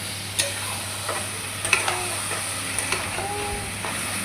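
Chicken and potato pieces fry in oil and spices with a steady sizzle, broken by several distinct scraping and tapping strokes of a spatula stirring them in the pan, close and fairly loud.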